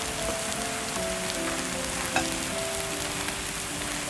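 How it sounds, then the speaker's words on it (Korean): Steady dense sizzle of seasoned meat stir-frying in a pan after soy sauce is poured in, a continuous close crackle with faint tonal hum, no talk. "어느 정도 볶아진 뒤 진간장과 집간장을 조금 넣었습니다"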